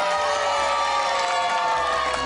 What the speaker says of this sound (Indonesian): Tepuk tangan, ya, sekali lagi buat Kang Zaini